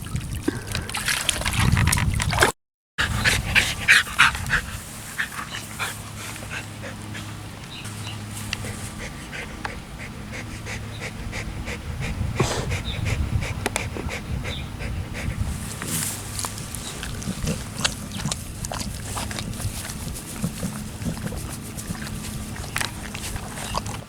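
Outdoors in nature, a dog pants and moves around nearby, with rustling steps and trickling sounds over a steady background, and a brief break partway through.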